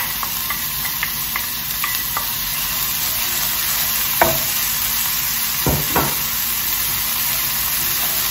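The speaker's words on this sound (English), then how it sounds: "oil is hot, add the onion. And again, let the onions cook." Onions frying in hot oil in a pan, a loud, constant broadband sizzle right up close, with a few soft knocks and utensil taps in the middle, no talking.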